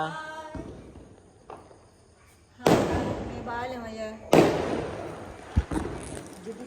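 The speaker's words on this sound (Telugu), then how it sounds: "దీపావళి పండుగ సందర్భంగా ఒక బాంబులు మా ఇంటి పక్కన పక్క వీధిలో పేలుస్తున్నారండి" Diwali firecrackers burst in a neighbouring street with two sharp, loud bangs followed by crackling, while people talk in between.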